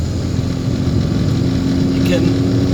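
Classic Mini engine revving under throttle with hesitation, a steady close low drone holding throughout with no clear rise or gaps.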